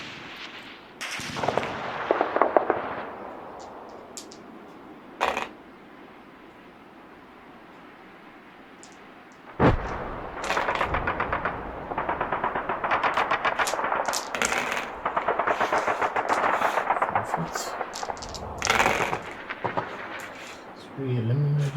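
T-60 tank and anti-tank guns firing in a war video game: bursts of rapid machine-gun fire and loud cannon shots, some sharp single blasts, dense sustained gunfire through the second half, with a voice talking over parts.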